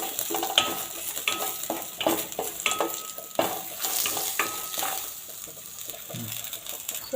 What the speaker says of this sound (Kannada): ಈರುಳ್ಳಿ ಬೆಳ್ಳುಳ್ಳಿ ಹಾಕಿದ್ದೀನಿ. ಸ್ವಲ್ಪ ಫ್ರೈ ಮಾಡ್ಕೊಳ್ಳೋಣ,